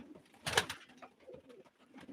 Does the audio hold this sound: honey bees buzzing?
no